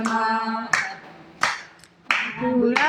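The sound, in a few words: hand clapping during a devotional bhajan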